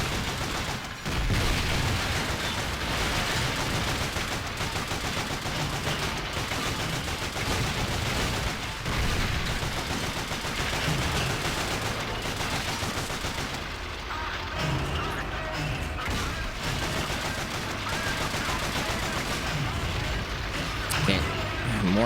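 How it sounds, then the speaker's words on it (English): Sustained gunfire in the video game Call of Duty Finest Hour, dense volleys of rapid shots and heavier booms running almost continuously, with a player talking over the battle. "More shit shooting at me."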